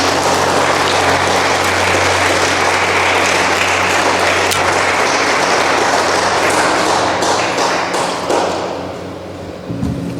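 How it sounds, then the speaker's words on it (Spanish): A church congregation applauds during a sermon, a steady dense wash of clapping that holds for about eight seconds before thinning and tapering off near the end. "Denle una ofrenda de aplausos nuevamente a nuestro Señor."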